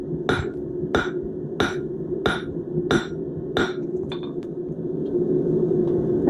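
A hammer strikes a bottle opener against an anvil base to correct a bad hit: seven sharp metallic blows fall at an even pace, close and loud, followed by a couple of lighter taps and a low room rumble.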